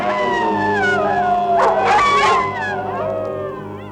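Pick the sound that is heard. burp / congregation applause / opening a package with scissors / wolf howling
wolf howling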